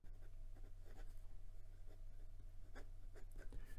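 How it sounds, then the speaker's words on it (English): Nib of a stiff Tianzi Sky Blue piston-filler fountain pen dragging across paper, with faint scratchy strokes in short, uneven bursts over a steady low hum. "maybe you can hear that, has some drag to it"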